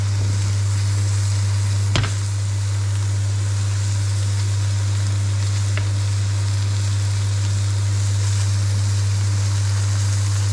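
A grill flares up while bread toasts for a breakfast sandwich, giving a steady, close hissing roar of flame and sizzle over a low hum, with one sharp click early on.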